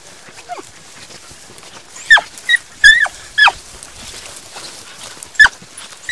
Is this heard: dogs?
yes